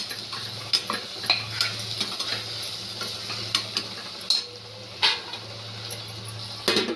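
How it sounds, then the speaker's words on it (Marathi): Bottle gourd being stirred in a pan on the stove, a low sizzle under repeated scraping and clinking of a spoon against metal, close up with irregular sharp knocks and no talk. "आता आपण हे दुधी भोपळा टाकून घेऊया. टाकून मिक्स करून घेऊया."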